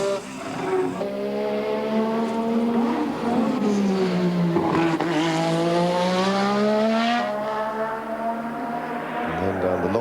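Formula One car on track in practice at the 1986 Australian Grand Prix, engine note rising and falling through gear changes as it slides about on cold tyres, loud and continuous under a commentator's voice.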